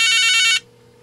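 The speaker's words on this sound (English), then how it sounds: "Let's see if I can call it and see if it will display a number. It rings." Electronic ringing from a cheap Chinese telephone butt set when the line is called, a single loud, close warbling burst that cuts off abruptly after about half a second, then near silence.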